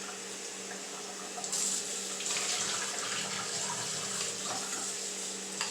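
Running tap water pours over canned beans being rinsed in a kitchen, a steady close hiss and splash with slight surges, and no talking.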